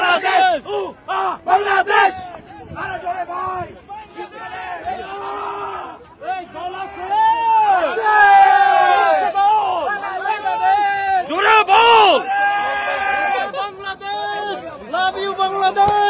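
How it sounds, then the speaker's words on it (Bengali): Bangladesh cricket supporters in New York chant the country's name in loud, rhythmic, repeated bursts, a large crowd voicing the chant close by with cheering and babble between rounds. "নিউ ইয়র্কের মাটিতে বাংলাদেশ বাংলাদেশ স্লোগান।"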